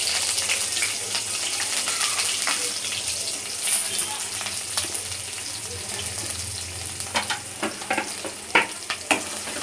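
Sliced onions fry in hot oil with cumin seeds, giving a steady, dense sizzle close by, broken by occasional clicks and scrapes of stirring that grow more frequent toward the end.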